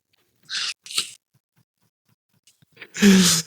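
A single loud sneeze bursts out near the end after a couple of short breathy sounds and a quiet pause.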